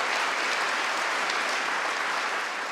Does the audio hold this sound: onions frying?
no